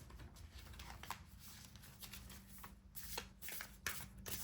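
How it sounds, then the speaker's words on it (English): A deck of tarot cards riffled and shuffled by hand, a steady soft papery flutter with a few sharper snaps, close and quiet over a faint low hum. "let's get just a couple more cards in this deck"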